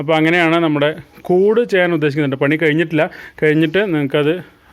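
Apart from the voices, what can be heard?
No distinct noise like a dog, phone or traffic.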